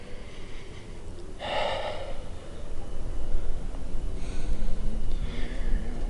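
Deep belly breathing during a yoga lizard pose, a loud sharp inhale through the nose near the start followed by slower, softer breaths under light background noise.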